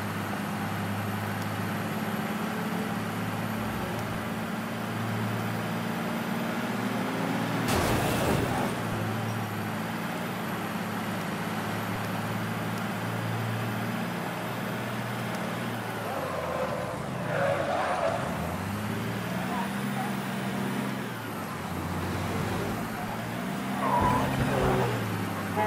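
A truck drives in the video game Mafia 3 with a steady, droning engine hum, loud and continuous for the whole stretch, broken by a short crash or scrape partway through and a few brief skids near the end.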